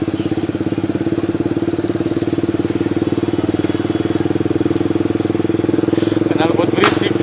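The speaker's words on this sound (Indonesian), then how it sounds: "Knalpot berisik." A motorcycle with a loud aftermarket exhaust idles close by at night, its rapid, throbbing pulse steady and rough throughout, with brief higher sounds near the end.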